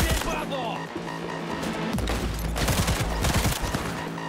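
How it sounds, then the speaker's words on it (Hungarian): Dense gunfire in Cyberpunk 2077 combat, with rapid overlapping shots and impacts running continuously and loudly through the whole stretch, a steady low hum beneath them. "Ugye most pár lövésből így már megdöglenek ezek az emberek."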